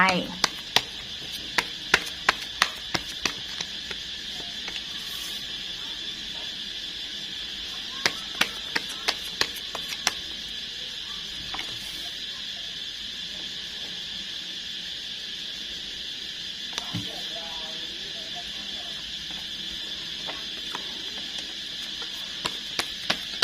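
Cicadas sing in the evening as a steady, loud, high droning buzz that runs throughout, overlaid by scattered sharp clicks and taps nearby, with no talk.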